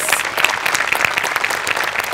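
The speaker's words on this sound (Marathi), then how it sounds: "टाळ्या वाजल्या पाहिजे." Steady applause from a studio audience at a Marathi comedy show, a dense continuous clatter of clapping hands at close range throughout.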